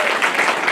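A church congregation applauding at a Christmas celebration, a dense, steady wash of many hands clapping at once, loud and close, with no voices over it.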